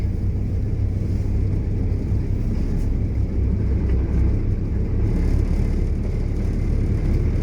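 A semi truck pulls away with its trailer hooked. A loud, steady low diesel rumble and engine drone sit close, with no talking.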